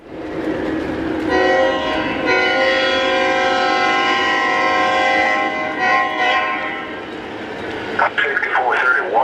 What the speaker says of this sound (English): What I'm going to do now is turn the trains on and let you see them in action for a few minutes.